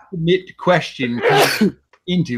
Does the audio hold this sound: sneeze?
yes